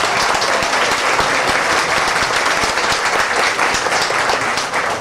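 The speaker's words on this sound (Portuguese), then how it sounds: "Uma salva de palmas para ele." A crowd at a family reunion gathering gives a loud, sustained round of applause for the man who organised it. Dense, continuous hand clapping runs throughout, with almost no talk.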